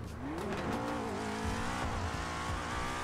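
A Ferrari in the game GTA roars as it accelerates, its engine note climbing in pitch through the gears while tires squeal and skid, loud and close, with no talking.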